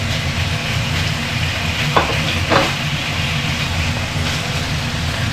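Marinated pork for Portuguese bifanas sizzles steadily in a hot pan, a loud continuous fry with a couple of brief sharper crackles as the meat is stirred.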